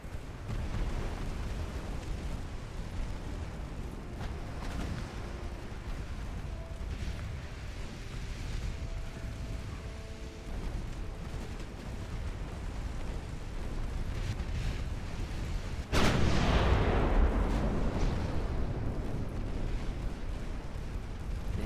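Naval gunfire striking ships in the Ultimate Admiral Dreadnoughts warship game, a low rumbling battle din with a loud booming impact late on that leaves a roaring tail.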